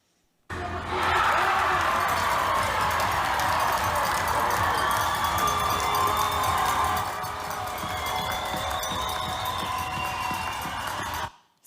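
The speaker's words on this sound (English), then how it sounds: "So the roar of a crowd, I'd like to say that was my kid scoring the goal, but it was not." Crowd roaring at a goal during the Alberta Winter Games, a loud, sustained cheer of massed voices that fills the space for about eleven seconds, with thin whistle-like tones over the top, before cutting off.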